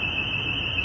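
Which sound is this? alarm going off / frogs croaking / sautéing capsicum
alarm going off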